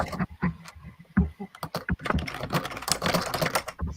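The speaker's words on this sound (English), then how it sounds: "So much typing." Rapid, uneven typing on a computer keyboard during a writing session: a steady stream of close, crisp key clicks with brief pauses between bursts.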